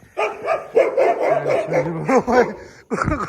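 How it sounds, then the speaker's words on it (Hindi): A dog barks and yips several times in quick succession, close by, with whimpering tones and some voices mixed in. "कुत्ते की आवाज़ सुन के कैसा उसी स्पीड से वापस आया दोस्तों लाल बादशाह"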